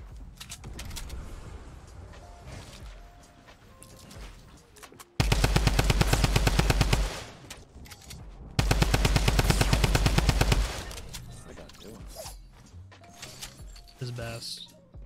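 Sustained automatic gunfire from a Fortnite match, two loud rapid bursts of about two seconds each, with people talking before, between and after them.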